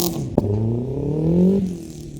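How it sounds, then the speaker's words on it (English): A car with a horrific-sounding exhaust drones loudly and close, its engine note rising steadily as it revs before dropping off, with a single sharp knock near the start. "I know the exhaust sounds horrific"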